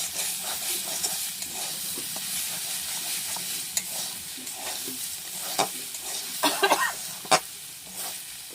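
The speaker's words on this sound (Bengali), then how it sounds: "নাড়াচাড়ার উপরে শাকটা রান্না করে নিতে হবে" Khesari greens are stirred and tossed while they fry in a pan, a steady sizzle with scraping and clinking spoon strokes that grow busier toward the end. The sound is close, and no one speaks.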